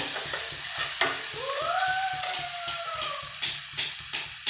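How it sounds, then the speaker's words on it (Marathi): Chickpea leaves with chillies being stir-fried in a pan for a sabzi, a steady sizzle with scraping stir strokes up close and a faint wavering tone in the background, no speech. "दोन मिनटं याला परतून घ्यायचं"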